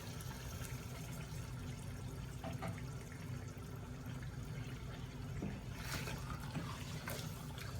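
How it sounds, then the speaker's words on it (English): Greek yogurt and thickened cream spooned and poured into a simmering pot of chicken korma, giving a soft wet plopping and bubbling over a steady close sizzle, with a few splats toward the end. "we're gonna add 1 cup of Greek yogurt, along with half a cup of thickened cream."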